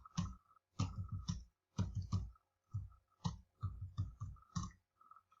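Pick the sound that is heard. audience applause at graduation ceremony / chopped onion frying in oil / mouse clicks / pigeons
mouse clicks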